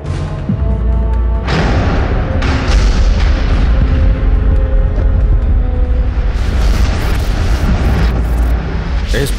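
A serious explosion inside a mine, heard as a loud, sustained roar with a deep rumbling boom that holds steady for several seconds without letting up.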